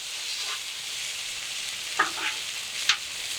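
Potatoes fry in olive oil on a Camp Chef skillet outdoors, giving a steady broadband sizzle with a couple of brief scraping clatters near the end and no talk.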